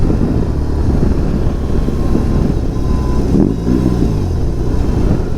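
A BMW R 18 B bagger motorcycle's big boxer engine revving loud and close, a throaty rumble that swells and dips, with wind buffeting the microphone.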